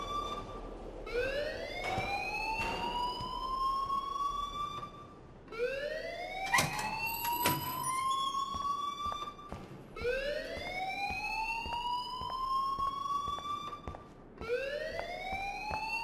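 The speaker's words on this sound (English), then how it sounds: "please turn off that alarm since that's your job" A fire alarm wails in Life Is Strange, a rising and falling siren-like tone that repeats in long sweeps, fairly loud and continuous without talking.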